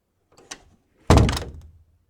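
A door shuts with a single solid thunk as a man walks out, preceded by a few faint footsteps or latch clicks, close and otherwise quiet.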